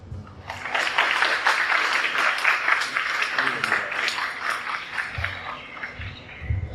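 An audience claps warmly for ambassador Kirill Barsky at a formal diplomatic anniversary exhibition and lecture event. A dense, steady round of applause continues for several seconds at even strength.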